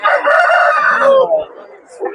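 A rooster crows loudly and close by at the Sabunchu poultry market, one long full crow that trails off, followed by a brief softer sound.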